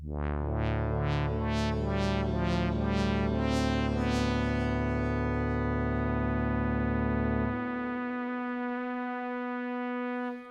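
Roland S-1 compact synth playing a bright melodic sequence drenched in delay and reverb, repeating notes with echoing tails that sustain and slowly decay after the playing stops.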